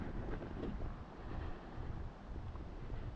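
Wind gusts buffet the microphone outdoors on a chilly evening walk in Maine, a loud, rumbling, continuous roar with uneven surges and no talking.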